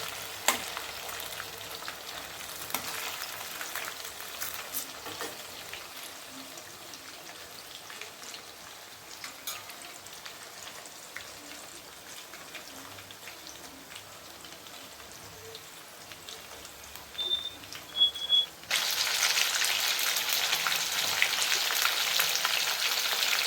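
Chicken wings frying in a pan, a steady close sizzle and spatter with scattered pops, growing abruptly louder and brighter near the end as the oil heats up.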